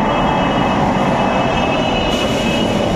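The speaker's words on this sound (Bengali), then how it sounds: "এই যে ট্রেন দাঁড়িয়ে পড়েছে, ট্রেনে উঠবো" Loud, steady rumble of a metro train arriving at a station close by, a dense roar with a faint high whine, no voices.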